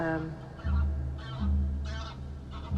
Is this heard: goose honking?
yes